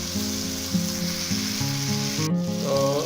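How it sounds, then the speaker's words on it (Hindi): Tomato masala for namkeen beef with peas sizzles steadily in a pan while being mixed and cooked. A dense frying hiss runs throughout with occasional stirring scrapes, and a melodic tone plays faintly in the background. "तो अभी हम इसको मिक्स कर लेते हैं, टमाटर के गलने तक हम पकाएंगे"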